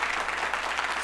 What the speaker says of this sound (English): A round of applause for them again now.